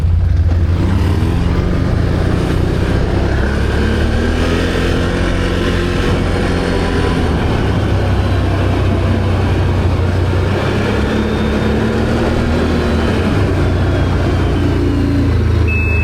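A 2023 Can-Am 1000 XMR off-road vehicle engine runs close by in a loud, continuous low rumble with a steady idling drone throughout and no voices.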